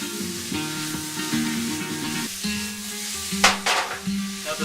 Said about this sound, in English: let this continue simmering